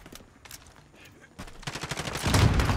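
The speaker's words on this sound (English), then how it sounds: "Airstrike." Call of Duty Modern Warfare airstrike and gunfire: sparse shots give way to a dense, loud barrage of rapid bursts and deep booming blasts building toward the end.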